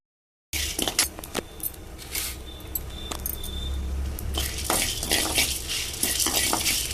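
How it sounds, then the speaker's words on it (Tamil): Dried chillies and star anise sautéed in an oil pan for a chicken fry, giving a soft sizzle under repeated clinks and scrapes of a utensil against the pan. "எண்ணெய் சட்டியில் போட்டு சும்மா அந்த பச்சை நாட்டம் போகிறதுக்காக வதக்கிக்கணும்"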